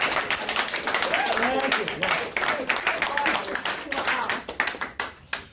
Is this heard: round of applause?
yes